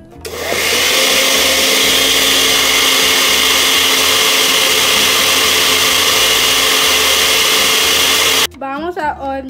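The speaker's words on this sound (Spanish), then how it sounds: "Vamos a licuarlos" A blender whirs loudly and steadily for several seconds, mixing a sugar-free flan batter, then cuts off and a voice speaks.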